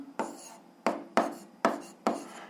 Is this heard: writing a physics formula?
yes